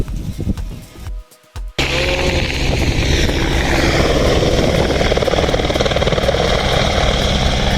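Helicopter at the Hemkunt Sahib helipad lifting off, a loud, steady rotor roar with rhythmic blade chop filling the scene after a brief cut of near silence, no talk over it.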